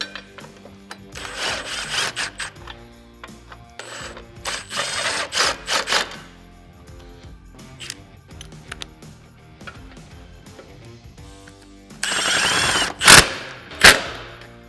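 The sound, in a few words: power tool tightening winch mount hardware on RZR XP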